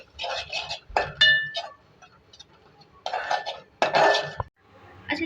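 Flour roasting in butter in a pan, heard as intermittent bursts of metallic scraping and clinking as a spoon stirs against the pan, several separate clusters with quiet gaps between them.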